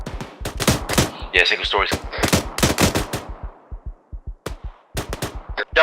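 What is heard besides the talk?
gunfire in ArmA 3 video game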